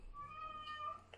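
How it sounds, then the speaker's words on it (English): Several house cats meow in a drawn-out, overlapping serenade with rising and falling tones, fairly close and clear, with a low steady hum beneath them. "So apparently my cats have decided to serenade us."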